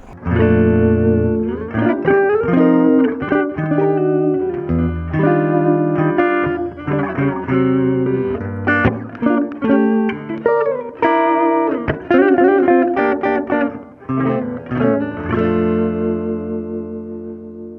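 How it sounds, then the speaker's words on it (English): Clean 1967 Gibson ES-335 electric guitar on the neck pickup, straight into the amp, playing a melodic line of picked notes and chords, warm and rounded in tone, continuous and fairly loud with no added echo. "This first time we're just gonna go straight into the amp, dry signal, no reverb."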